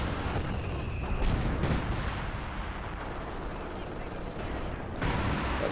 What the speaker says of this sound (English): So Rafaro was shooting again